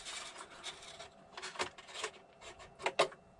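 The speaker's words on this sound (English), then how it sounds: "So if I remove this pin now," A magnetic hinge pin is slid out of an indoor model aircraft wing: soft, close scraping and rubbing in a few short bursts, ending with a couple of sharper clicks.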